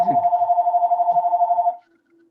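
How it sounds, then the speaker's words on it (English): A phone rings during a virtual club meeting held online: a close, loud electronic ringing with a rapid pulsing warble that lasts under two seconds, then stops abruptly. "Someone's phone is ringing."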